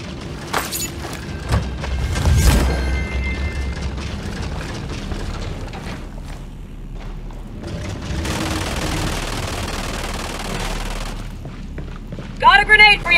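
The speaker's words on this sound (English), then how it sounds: "Mortars, hit the deck." Mortar explosions in Ghost Recon Breakpoint, with a heavy low boom followed by rumbling blasts, debris noise and scattered gunfire, plus a voice speaking briefly at the end.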